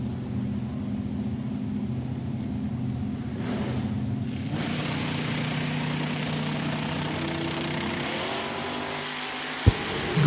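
A dragster at a Woodburn, Oregon drag race, engine droning loud and steady with a rising note partway through, then a sharp bang near the end; no talk.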